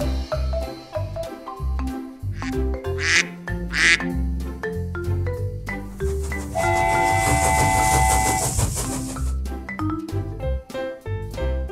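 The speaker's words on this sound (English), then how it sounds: "Duck." A duck quacks a few times over bouncy children's music in a farm animal train song, followed by a long steam-whistle blast.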